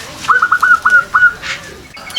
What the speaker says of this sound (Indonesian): cara merawat perkutut kita agar berperforma semakin baik dari segi irama